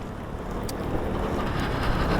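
Steady, rumbling wind buffeting the microphone while riding a motorcycle, a continuous low roar with no speech, as if riding in open air at speed.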